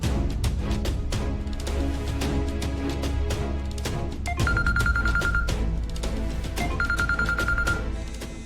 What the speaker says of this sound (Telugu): ఫోన్ లిఫ్ట్ చేయి, మాట్లాడు మాట్లాడు.